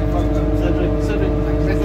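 A steady, loud engine drone from an amphibious duck tour vehicle being driven near Windsor Castle, a constant low hum with no pauses.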